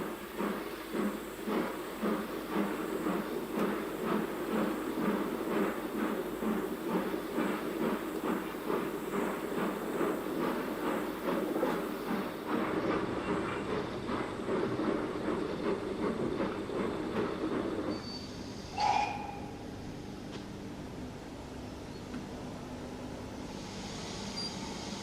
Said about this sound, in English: The train then draws forward and stops perfectly in position.